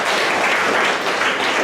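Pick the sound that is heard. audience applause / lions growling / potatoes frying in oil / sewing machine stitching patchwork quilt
audience applause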